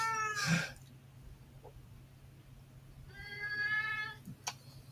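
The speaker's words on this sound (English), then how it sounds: "And a hungry cat." A hungry cat meows twice, the first a loud, close cry and the second a longer, harmonic wail a few seconds later, with a short click between them over a low steady hum.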